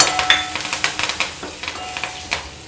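Curry leaves crackle and sizzle in hot oil while raw banana curry is cooked, a dense run of sharp spitting pops and stirring scrapes, close and fairly loud, with no voices.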